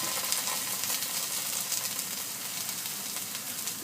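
Green onions sizzle and fry steadily in a pan, a constant bright crackling hiss with small pops, close and even throughout with no voices.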